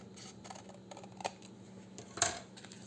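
Scissors cut through thick paper for a handmade journal, a few quiet snips with one sharper cut near the end, close and faint with no talk.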